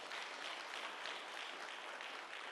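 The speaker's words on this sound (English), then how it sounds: "Please give yourselves a round of applause." Steady, dense clapping from an audience at a community engagement town hall in Rustenburg, continuous and even throughout.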